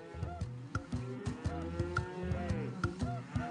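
A cartoon cow in the Putt-Putt video game moos several times in a row, each call a drawn-out, wavering low bellow, with no talking over it.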